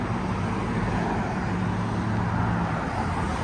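A steady low roadway rumble of traffic passes near a stadium construction site, continuous and moderately loud throughout, with no individual vehicle standing out and no talk.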